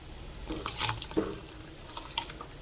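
Hot water pours and splashes into a pot of rice in short irregular bursts, fairly close, with no talking.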